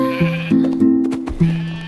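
Cartoon sheep bleating in a children's nursery-rhyme song, several wavering bleats in quick succession, loud and close over a light musical backing.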